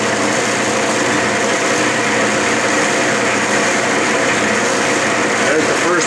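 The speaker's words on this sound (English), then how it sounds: "I have the lathe running in reverse, and I'm going to take a few passes" Metal lathe running in reverse while cutting 10 threads per inch up to a shoulder in a machine shop, a steady loud motor whine and mechanical drone with no clear breaks throughout.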